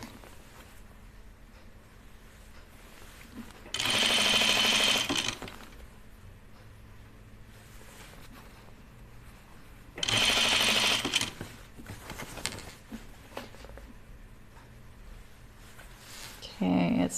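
A sewing machine stitches a dress sleeve in two loud, close bursts of rapid whirring stitching separated by quiet pauses, with a voice talking between them.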